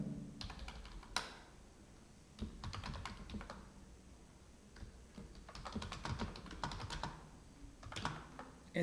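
Close-up typing on a computer keyboard, with irregular bursts of quick clicky keystrokes separated by short pauses during Python coding.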